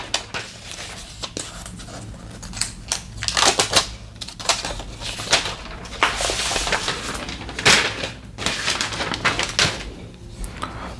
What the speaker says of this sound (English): let me do quickly remove the plastic paper here